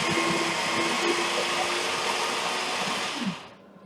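A food processor blending chestnuts and onion whirs loudly and steadily with a coarse grinding roar, then winds down and stops near the end.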